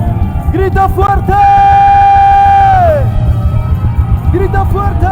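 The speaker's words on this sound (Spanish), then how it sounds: "Grita fuerte." A congregation shouts loudly during a worship service, with one long sustained yell sliding down at the end amid overlapping crowd voices and shorter whoops.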